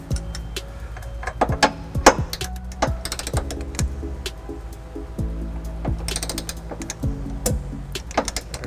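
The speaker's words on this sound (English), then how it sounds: "Putting on a 5-inch extension, that way I can get my torque wrench below the hitch here." A torque wrench on a 5-inch extension tightens trailer hitch bolts beneath a 2011 Ford Escape, giving rapid ratcheting clicks in repeated runs, close and clear.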